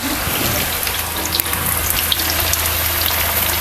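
Poha cutlets deep frying in hot oil until crisp, producing a loud, dense, continuous sizzle and bubbling close by, with scattered pops and no talking.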